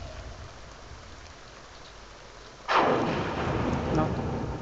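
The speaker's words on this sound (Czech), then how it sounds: "Venku bouřka." Thunderstorm outside a house in The Sims 2, faint rain hiss suddenly broken by a loud thunderclap that rolls into heavier, steady rainfall.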